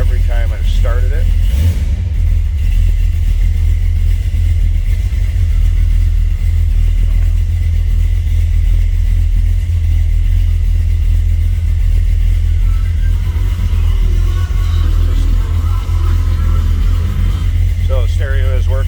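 A 1962 Ford Fairlane two-door post with a 302 V8 and 351 heads fires up from cold and runs at a steady, loud, close rumble throughout, with a person talking faintly over it.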